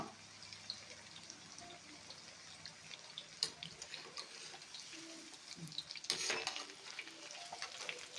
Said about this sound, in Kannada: ಮೀಡಿಯಮ್ ಫ್ಲೇಮಲ್ಲಿ ಇದು ಫ್ರೈ ಮಾಡಬೇಕು